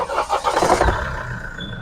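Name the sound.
Mahindra XUV500 mHawk engine starting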